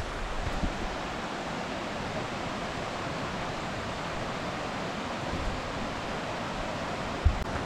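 The Bokadkada waterfall near Virar roars as a steady, broad rushing wash of falling water, continuous and fairly loud with no pauses.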